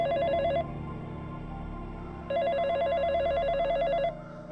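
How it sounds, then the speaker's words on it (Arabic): A telephone rings in a room, two bursts of electronic trilling bell tones separated by a short pause, loud and close, with a steady hum underneath and no talking. "دق أو رن التليفون اللي معي في الغرفة"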